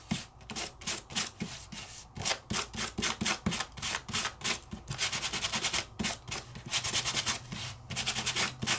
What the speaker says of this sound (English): I'm gonna come in here and I'm gonna sand it